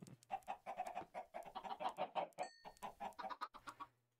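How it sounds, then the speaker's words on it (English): Chickens in the Minecraft video game clucking over and over, quick clipped clucks in a busy overlapping rhythm, close and clear with no talking. "They make the chickens while they're going in the hole for you."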